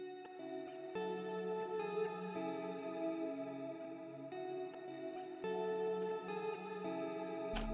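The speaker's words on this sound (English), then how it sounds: "this is what it sounded like after adding this Valhalla shimmer." A guitar part in an Afrobeat production, drenched in Valhalla Shimmer reverb set to dual pitch mode, rings as layered, sustained, shimmering tones. Soft plucked notes blur into a dense, washy haze throughout.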